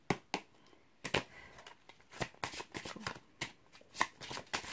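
Tarot cards are shuffled for a reading in a quick run of crisp, close riffles and slaps, each burst sharp and papery with short pauses between them.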